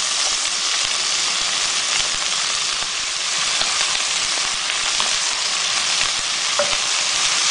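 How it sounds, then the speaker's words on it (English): Mushrooms fry alongside caramelizing onions in a pan, giving a loud, continuous sizzle with faint crackles and occasional stirring scrapes throughout. "once the onions begin to caramelize, you throw in your mushrooms."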